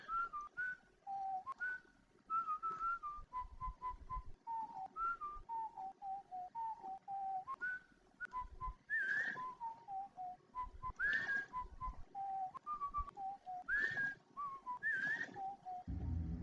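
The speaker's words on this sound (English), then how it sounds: "As gnomes love to whistle when we're mining, it makes the days much more relaxed" A gnome in the video game Warsim whistles a wandering melody, clear rising and falling notes in short phrases with brief pauses, some sharper upward-swooping whistles in the middle, alone and moderately quiet.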